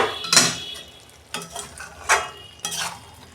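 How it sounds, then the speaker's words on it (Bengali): Pot of chicken cooking on a gas flame, with a few metallic clinks and scrapes of a lid and utensil over a soft sizzle, close by with no talking. "দেখুন বন্ধুরা ঢাকনা খুলছি"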